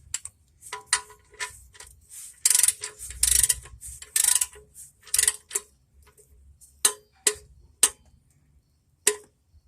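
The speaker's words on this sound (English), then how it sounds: "this is supposed to be torqued to 25 foot-pounds. Normally I just snug it tight and it's good, but I'll use a torque wrench." Close metallic clicking of a torque wrench ratchet tightening the oil drain bolt on a 2011 Nissan Cube, first in quick rapid runs, then in single spaced clicks near the end.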